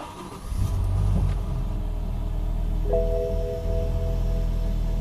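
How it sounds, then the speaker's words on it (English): A 2005 BMW M5 S85 V10 engine with a misfire fault cranks and fires up, settling into a steady, loud low rumble with a faint whine joining partway through. "So I'm gonna start the engine."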